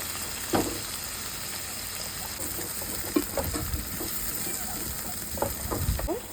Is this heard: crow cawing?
no